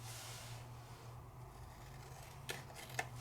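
Scissors trimming around a paper sticker, two short crisp snips near the end against a faint steady hum, no talking.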